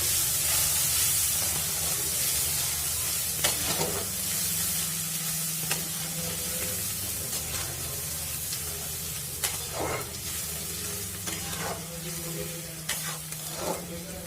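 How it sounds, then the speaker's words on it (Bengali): Onion paste fries in hot oil in a pan for a Bengali katla fish curry, sizzling as a constant close hiss while a spatula scrapes and stirs in irregular strokes. "পেঁয়াজটাকে এবার লাল লাল করে ভেজে নেব।"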